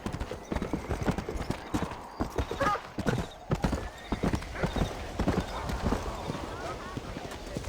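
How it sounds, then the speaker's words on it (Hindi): Horse hooves clip-clop in an uneven, repeated rhythm, and the horse whinnies in the Red Dead Redemption video game. Close and fairly loud, with someone talking over it at points. "ये घोड़ा तो बहुत अच्छा है लेकिन इसको अपने को थोड़ा सा खिलाना पिलाना पड़ेगा"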